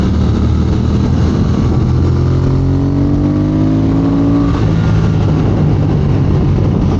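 A motorcycle on Michelin Road 6 tires rides steadily with a loud, continuous engine drone and rising, shifting tones as it accelerates, wind and road noise filling the background throughout.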